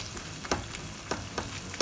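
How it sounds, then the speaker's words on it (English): Paneer cubes fry in a pan under a constant close sizzle, broken by regular scraping strokes of a spatula roughly every half second. "So we're gonna go ahead and fry this for probably about 4 minutes, or until the other side is a little bit golden brown."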